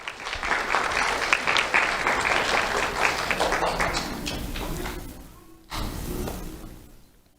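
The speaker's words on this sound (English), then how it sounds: "Let's have a round of applause for Daniel Wilson at least" An audience at an awards event claps for a recipient, a dense burst of applause that fades toward five seconds, then a brief second flurry before dying away.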